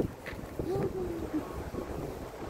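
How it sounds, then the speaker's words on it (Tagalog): A steady wind blows across the microphone outdoors, a continuous low rushing roar with faint tonal sounds drifting over it. "mahangin siya."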